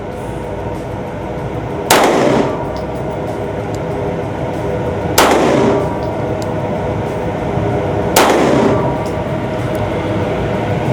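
A Daniel Defense H9 handgun fires three separate shots spaced roughly three seconds apart, each a sharp, loud crack with a short ringing tail over a steady background rumble.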